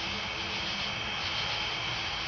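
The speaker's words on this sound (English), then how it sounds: "I apologize for the road noise." A continuous broad roar of traffic noise, steady and moderately loud, with no speech over it.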